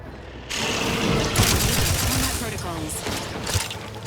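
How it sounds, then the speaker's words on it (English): Rapid mechanical gunfire from a shock machine gun in The Outer Worlds 2 rattles steadily for a few seconds, loud and dense, with a voice talking over it. "I'm really glad I got this shock machine gun."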